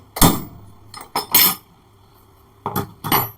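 Several hard metallic knocks ring out in two short bursts as a screwdriver handle strikes a steel plate close by, with brief pauses between them.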